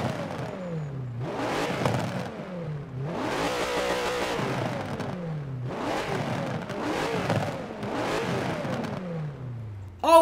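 The Ascari KZ1 R's engine in Forza Horizon 4, heard from outside the car, revs in repeated bursts with rising and falling pitch and gear changes between them, loud and close.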